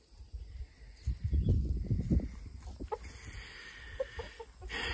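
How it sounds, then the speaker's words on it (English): Backyard chickens feeding on bird seed cluck and murmur close by, a cluster of soft low clucks followed by a few sharper, higher calls against quiet background noise. "Gosh, these chickens."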